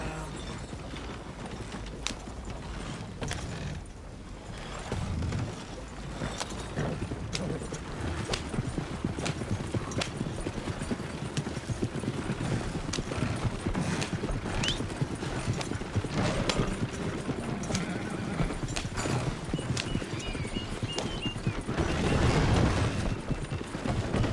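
A horse in the Red Dead Redemption 2 game clip-clops steadily along, hoofbeats close and continuous over a busy outdoor background, with no talk.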